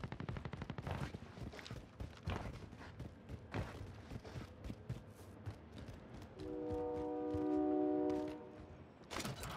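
Gunfire in Call of Duty Warzone: rapid bursts and single shots crack in quick succession, followed by a sustained tonal hum, moderately loud.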